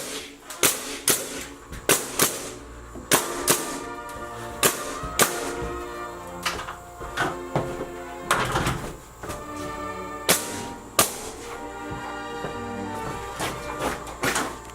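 Nail gun driving nails into boards during a house renovation, a series of loud, sharp bangs fired one after another at an irregular pace, close up and without speech.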